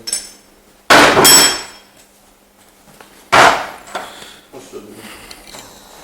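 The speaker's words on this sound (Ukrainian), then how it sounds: "Ми беремо, вставляємо контактний стержень, графітний називається." A graphite contact rod being inserted and tightened in a spotter welder, heard as two loud, close metallic clunks with short rattling tails, followed by softer knocks.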